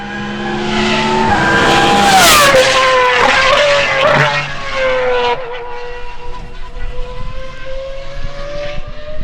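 A V12 race car of nearly 1,000 horsepower, revving to 11,500 RPM, screams loudly past on a circuit, its pitch climbing to a shrieking peak then dropping as it passes and fades into a lower, receding drone.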